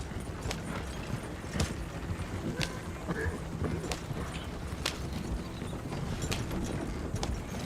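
Horse hooves clip-clopping at a run in the Red Dead Redemption 2 video game, a steady rhythmic beat of hoof falls mixed with game ambience and a few sharp clicks.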